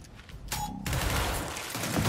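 A burst of rapid gunfire in the video game Gears Tactics erupts after a brief electronic tone, continuing as a dense, loud volley to the end.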